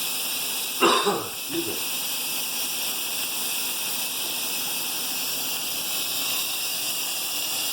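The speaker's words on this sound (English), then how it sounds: "we're going to let the steam out here" Steam hisses from the release valve of an Instant Pot that has been cooking potatoes, a loud, steady rush that continues throughout. A voice briefly speaks over the hiss near the start.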